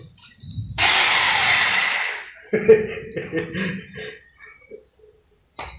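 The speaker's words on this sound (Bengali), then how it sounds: "দারুণ গ্রাইন্ডিং মেশিন বানাইলাম" A homemade grinding machine spins up with a loud, harsh whir lasting about a second and a half, then cuts off, leaving scattered clatters and knocks.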